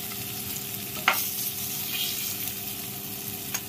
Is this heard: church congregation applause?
no